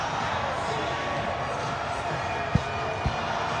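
Crowd of over 12,000 at an arena football game, the Albany Empire home crowd at the ArenaBowl, a constant roar of cheering with a couple of sharp thuds near the end and an announcer talking over it.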